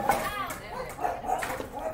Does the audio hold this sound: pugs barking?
yes